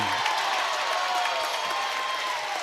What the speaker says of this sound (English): Now you got the Wheelersburg crowd getting into it a little bit.